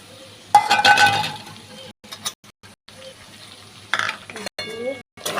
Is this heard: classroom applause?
no